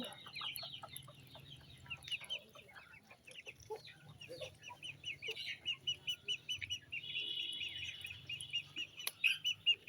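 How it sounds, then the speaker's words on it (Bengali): Ducks and ducklings feed nearby, with rapid high peeping and chirping from the young and quacking and clucking calls from the adults that come in quick repeated bursts. "দিয়ে আবার বড় হাঁসগুলা খাইতেছে"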